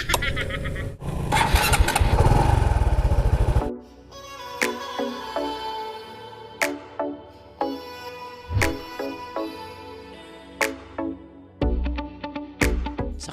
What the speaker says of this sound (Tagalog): Sakay sa motor na may 2 ligid at isang nobela.